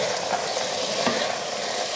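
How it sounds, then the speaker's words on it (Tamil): Vegetables with peas and tomato stirred in a frying pan for veg biryani, a steady close sizzle with soft scraping of the stirring, no voices. "இதை நல்லா கலந்து விட்டுறலாம்."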